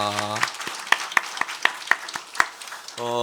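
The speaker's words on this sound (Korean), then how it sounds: "하나님께 우리 영광의 박수 한번 하겠습니다." A small church congregation at a Sunday service claps in a handful of distinct, sharp claps spaced about a quarter second apart, moderately near, between stretches of voice at the start and end.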